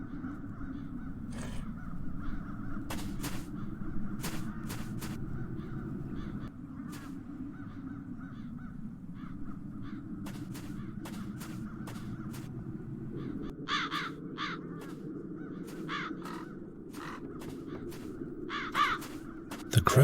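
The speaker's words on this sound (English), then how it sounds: "The crows haven't left anything of the town's banner." Crows caw repeatedly in the video game The Dark Eye: Chains of Satinav, sharp harsh calls scattered irregularly over a low steady ambient drone, some close and loud, others fainter.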